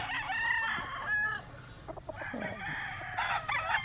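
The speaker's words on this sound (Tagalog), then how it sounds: "mga lahi ng manok ni Boss James" Roosters crow and cluck close by, several overlapping calls with background farmyard noise, no talking.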